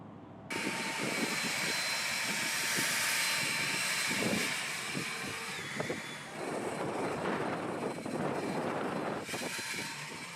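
An EGO 56V commercial 800 CFM battery backpack leaf blower runs at full trigger, kicking in after a brief pause and holding a loud, steady rushing roar that dips and swells slightly, with no talking.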